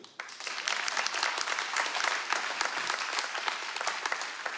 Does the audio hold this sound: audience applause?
yes